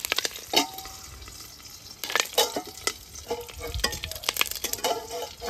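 Black mustard seeds, a dried red chilli and curry leaves crackle and sizzle in hot oil over low heat, with bursts of spattering and stirring clatter that grow busier toward the end, close and fairly loud.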